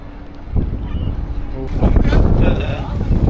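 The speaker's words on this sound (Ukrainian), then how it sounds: "Вітер, звісно, є." Heavy wind buffets the microphone in low, roaring gusts that grow stronger partway through, with faint voices and outdoor bustle beneath on a pedestrian street in Copenhagen.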